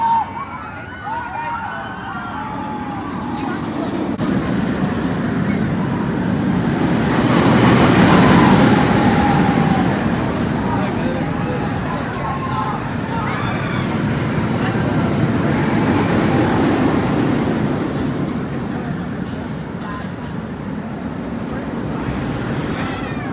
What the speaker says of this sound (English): That was one of the most intense roller coasters I've ever ridden.